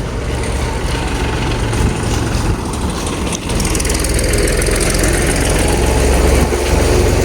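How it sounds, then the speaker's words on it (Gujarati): A tractor engine idles steadily nearby, a loud, low rumbling drone that holds throughout with a brief dip partway. "ફાઇનલી આવી ગયા આપણું ટ્રેક્ટર અને બીજું ટ્રેક્ટર આ બાજુ જુઓ"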